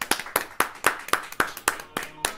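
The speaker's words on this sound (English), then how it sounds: "Let's give a round of applause." A small group claps in a casual indoor hangout, about ten distinct, fairly close hand claps in an uneven rhythm, each sharp and separate rather than blending into a crowd sound.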